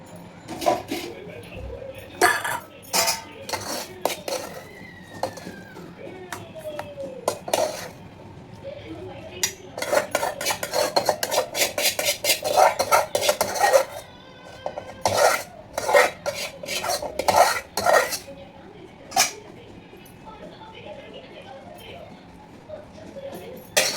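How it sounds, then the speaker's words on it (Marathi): Steel dishes, pots and utensils are scrubbed and handled at a kitchen sink, with repeated clanks, clinks and scraping in irregular bursts, loud and close. "चला तर मग आता भांडी घासून घेते"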